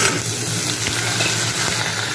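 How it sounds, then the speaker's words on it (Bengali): Steady, loud sizzling of vegetables frying in hot oil, a constant hiss close by with occasional faint scrapes of stirring. "এটাকেও হালকা করে ভেজে নেব"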